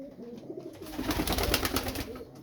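Pigeons or doves cooing close by in repeated soft, throaty phrases, swelling in the middle and then easing off, with no voices over them.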